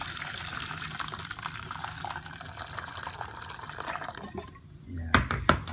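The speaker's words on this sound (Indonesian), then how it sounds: "setelah kita tuangkan, kasih air panas." Hot water poured into starfruit (belimbing wuluh) juice, a liquid pouring and filling sound that runs under a person talking, ending with a few louder clinks and splashes near the end.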